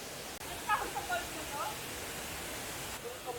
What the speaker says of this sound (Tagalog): Tungtung Falls.